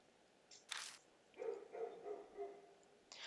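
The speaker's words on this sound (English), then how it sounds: "The dogs from the neighborhood are barking again." Neighborhood dogs barking in the Spirit Hunter: NG video game, a few faint, distant barks and yelps over a quiet background hiss.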